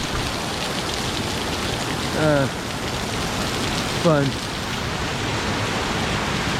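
Steady afternoon rain pours down in a constant hiss, with a brief spoken word and a couple of short chirps rising over the downpour.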